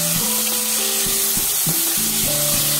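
Chopped ripe tomatoes sauté in a hot pan for tomato pulao, a loud close sizzle with repeated stirring scrapes and knocks against the pan, no voices.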